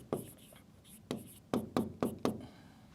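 Chalk or marker strikes a board during a physics lecture on circuits, a run of sharp taps and short strokes in uneven rhythm, close and fairly clear, with no talking over them.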